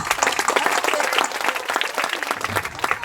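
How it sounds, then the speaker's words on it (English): Audience applause at a school alumni meet, a dense, steady patter of many hands clapping throughout, fairly close and loud with no speech over it. "let's clap for PPS"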